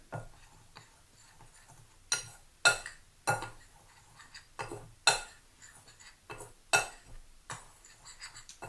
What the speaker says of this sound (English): And then just mix all that together.